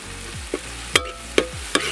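Sautéing with turmeric powder for a tapioca and tuna head curry, a low sizzle under a few sharp spatula scrapes and knocks against the pan, spaced irregularly over two seconds, no talking.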